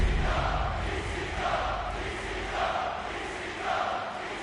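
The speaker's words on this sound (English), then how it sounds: "They're chanting in anticipation of this one." Wrestling crowd in a Milwaukee arena chanting in a steady, rhythmic swell, a dense wash of many voices rising and falling in repeated waves throughout.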